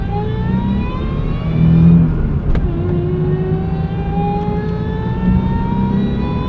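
An upgraded truck engine accelerates hard, its close, loud drone rising steadily in pitch as it pulls through the gears, with no talking.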